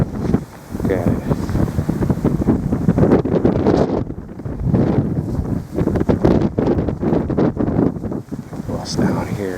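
Strong winter wind blowing snow beside the Thunder Bay River 7 Mile Dam in Alpena, Michigan; loud roaring gusts buffet the microphone throughout, with a person talking under it.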